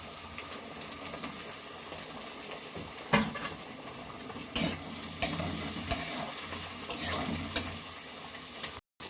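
Capsicum, beans and other chopped vegetables frying in refined oil, a constant sizzle broken by several sharp spatula knocks and scrapes against the pan, close, with no one speaking.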